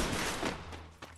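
Gunfire in Counter-Strike, a burst of rapid shots up front followed by a couple of sharper separate cracks near the end, loud and close with no voices over it.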